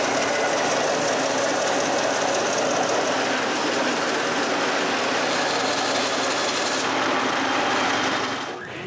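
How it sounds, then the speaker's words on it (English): A bandsaw finishes a rip cut through wood for a bellows, a steady loud broadband whine with a grinding buzz that holds for about seven seconds, then thins and tapers off as the blade clears the board. "I finish the cut with my bandsaw."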